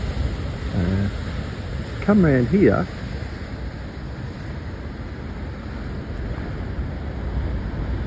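Rough, angry ocean surf rolls in off the wild coast of Tasmania, a steady broad roar of breaking water; someone speaks briefly over it.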